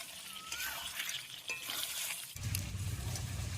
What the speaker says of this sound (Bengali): এবারে চার পাঁচ মিনিট ধরে উনুনের আঁচটা কমে রেখে রেখে চিকেনটা খুব ভালোভাবে কিন্তু কষে নিতে হবে